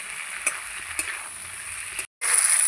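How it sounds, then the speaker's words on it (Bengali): Young, tender flat beans frying in a pan with potatoes, a steady crackling sizzle with a couple of soft stirring knocks, a brief drop to silence near the end, then the frying resumes louder and close. "এবার সিমগুলো দিয়ে আমি আরেকটু ভেজে নেবো,"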